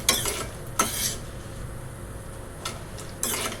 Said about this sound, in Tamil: இது சுண்டக்காய் வத்தல். இது நான் நல்லா க்ளீன் பண்ணிவிட்டு நல்லா எண்ணெயில் வறுத்து எடுத்துக்கிறேன்.